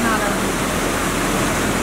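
The flooded Kahu Khola river in Pokhara rushes beneath a bridge, a loud, continuous roar of churning water filling the whole clip with no break.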